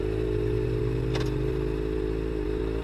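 A narrow, nimble motorcycle being ridden, its engine holding a steady, close droning hum throughout with one brief clatter partway through.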